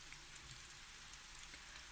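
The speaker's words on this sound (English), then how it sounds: "It's raining." Rain falling outside a bedroom window, a faint, steady hiss with scattered soft patters of drops, quiet and continuous with no voices.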